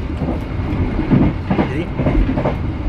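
Long-distance passenger train on the Dharmawangsa route from Pasar Senen to Surabaya, heard from inside as a loud continuous rumble with rhythmic wheel clatter on the rails.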